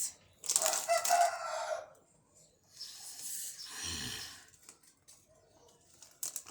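A rooster crows loudly and close by, in bursts with short gaps between them and no talk over it.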